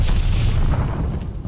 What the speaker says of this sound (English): What did I just throw that grenade?